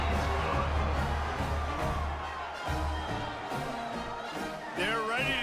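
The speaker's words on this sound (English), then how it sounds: "this crowd is buzzing after that last score" Stadium crowd at an AAF football game between the Tampa Bay Bandits and Virginia Destroyers roaring after a touchdown, a dense sustained wash of cheering and shouting that stays loud throughout and swells again near the end.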